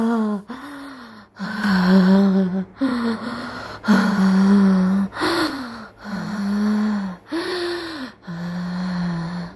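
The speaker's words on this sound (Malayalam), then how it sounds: "വലിക്കുന്നു അമ്മേ വലിക്കുന്നു ശ്വാസം ഇടിക്കുകയും വിടുകയും ചെയ്യുന്നു" Loud, labored gasping close by: about eight heavy, rhythmic breaths, each a strained, voiced pull of air, with short pauses between them.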